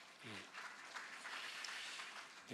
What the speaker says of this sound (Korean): 잠깐 우리 일어나셔서 우리 위로의 박수 또 하십시다.